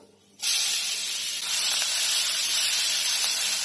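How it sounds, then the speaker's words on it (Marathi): Crushed garlic hits hot oil in a pan and sets off a sudden loud, steady hissing sizzle that starts after a brief quiet moment and carries on unbroken. "लसूण छान परतून घ्यायचं आहे"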